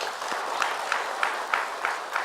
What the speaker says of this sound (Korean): 우리 격려에 한번 박수 한번 해주시기 바랍니다